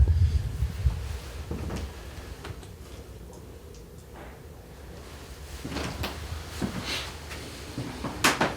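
A closet door in an old house museum creaks and knocks as it is opened, a few soft wooden clicks and thuds spread over a quiet, hushed room.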